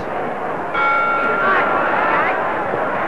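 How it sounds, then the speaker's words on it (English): The bell of a boxing ring rings to close the third round of a bout between Carnera and Sharkey, clear ringing tones over a steady crowd hubbub. "Bell goes to end the third."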